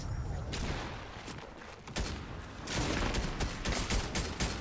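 Assault rifle fire in the Fortnite video game comes as rapid bursts of shots in several clusters, fairly loud, with game noise underneath.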